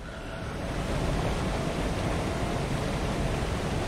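Water of a calm pool in Lord of the Rings Online gives a steady, broad wash of soft rushing noise, even and fairly loud throughout the short stretch, with no voices.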